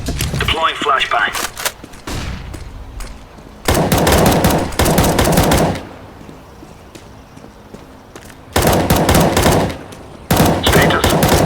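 Gunfire in the mobile game CSSO on the Inferno map: several loud bursts of rapid automatic fire separated by quieter gaps, with lighter clatter between the volleys.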